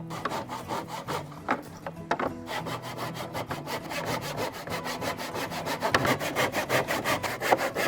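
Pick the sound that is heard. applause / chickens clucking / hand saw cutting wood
hand saw cutting wood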